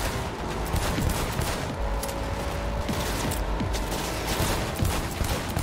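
Continuous loud gunfire from a car window in Cyberpunk 2077, with rapid overlapping shots over a steady rumble of a moving vehicle for the whole stretch.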